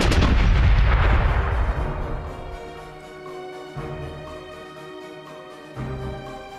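Ship's cannon fire in a pirate video game, a loud booming blast followed by a long rumbling decay that fades over several seconds, with faint game sounds after.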